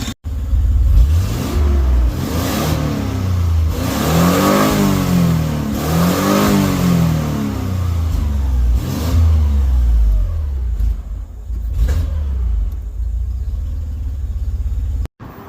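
A mid-pitched Nissan Z31 engine revs up and down several times, loud and close, with rising and falling sweeps, then drops to idle before cutting off abruptly.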